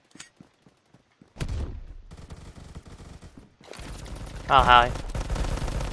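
Shotgun blast in the Roblox shooter Phantom Forces, a sudden loud boom followed by rumbling gunfire and game noise, with a brief spoken greeting.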